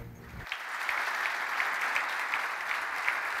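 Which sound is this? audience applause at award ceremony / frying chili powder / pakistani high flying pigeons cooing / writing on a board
audience applause at award ceremony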